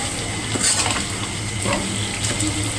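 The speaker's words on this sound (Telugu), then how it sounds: "అంతా ఒకసారి కలుపుకుందాం." Spicy Andhra chicken fry, finished with garam masala, stirred in a sizzling pan: steady frying crackle with scraping spoon strokes against the metal, close and continuous, no voices.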